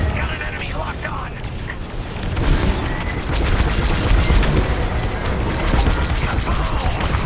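In Star Wars: Squadrons, a bombing run on a station brings rumbling explosions and crashing booms over continuous engine roar, loud and dense throughout.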